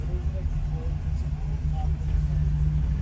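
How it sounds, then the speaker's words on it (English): Steady low road rumble of cars rolling past a long vehicle waiting line at the Burning Man exodus, continuous and moderately loud, with voices talking over the traffic. "cars going by the line. It's been like 25 of them just driving right by."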